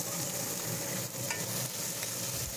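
Chopped tomatoes with a pinch of salt fry in a pan for palak paneer, giving a steady, close, dense sizzle with faint stirring scrapes and no voices.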